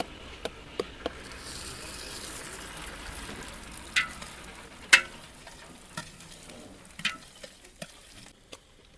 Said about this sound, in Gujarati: ત્યારબાદ નાખી દઈશું આપણે સૂકું લસણ.